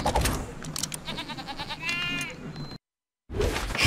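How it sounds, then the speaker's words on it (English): The Sheep Creep villain from the video game Skylanders Trap Team bleats in a series of quavering, sheep-like cries mixed with game sound effects and music, then breaks off into brief silence before game audio resumes. "the deadly Sheep Creep."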